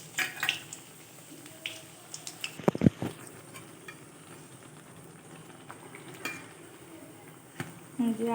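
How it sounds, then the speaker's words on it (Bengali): Gram-flour-coated eggplant slices fry in oil for crisp beguni, a low steady sizzle under loud clattering of utensils against the pan around the middle and more scraping bursts near the end. "এইভাবে প্রতিটা সবগুলো বেগুনি ভেজে তুলে নেব"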